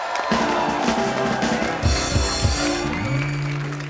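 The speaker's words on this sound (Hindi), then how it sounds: "जोरदार तालियां" A medal-ceremony audience claps and cheers for athletes who won silver and bronze, including a high-jump bronze. The clapping is dense and sustained, with crowd noise and a voice over it.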